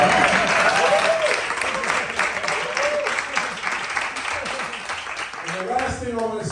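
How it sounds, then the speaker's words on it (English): A crowd of climate activists applauds a congressman at a rally, with continuous, full clapping throughout and voices calling out over it. "You can clap for that."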